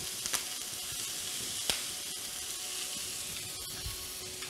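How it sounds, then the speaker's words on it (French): Chicken skewers fry in a pan with olive oil, giving a steady, bright hiss with a few sharp clicks as they are turned. "On va refaire un petit quart de tour ici pour bien cuire partout nos brochettes."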